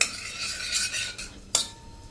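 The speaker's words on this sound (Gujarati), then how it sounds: "આપણે કન્ટિન્યુ ગેસ ઉપર દહીં નાખી અને આ રીતે હલાવવાનું છે" Hot ghee sizzles softly while a spoon stirs curd into it and scrapes against the pan, with one sharper clink near the end.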